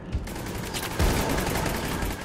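Sustained gunfire in the video game Mass Effect 3, a dense, noisy stream of rapid shots with a sharper burst partway through, loud and continuous with no talk over it.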